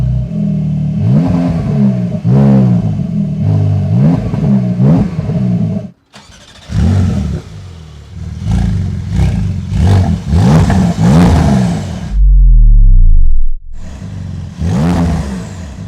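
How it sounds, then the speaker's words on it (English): A 2024 Porsche 911 GTS (992) engine with a TECHART aftermarket exhaust revs repeatedly in loud bursts, rising and falling, with a short pause midway and a deep blip near the end. "TECHART exhaust."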